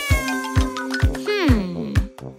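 A cat meows several times in close, clear succession, with one long drawn-out rising and falling cry in the middle, in a bathing and grooming setting.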